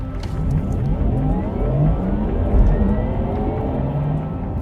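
A Porsche Taycan twin-motor electric car launches hard under launch control, its rising electric whine sweeping upward over a loud, continuous road and tyre rumble heard from inside the cabin.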